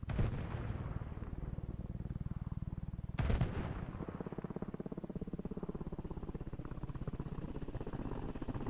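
A tank explodes in the military video game Arma Reforger: one sharp, loud blast cracks out partway through, over a steady, fast rhythmic rotor thrum that runs from start to finish.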